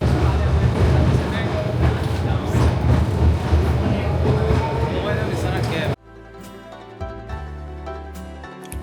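An old tram in Milan rumbles and rattles loudly and continuously along its rails for about six seconds, then the sound drops sharply to a quieter scene with scattered clicks and knocks.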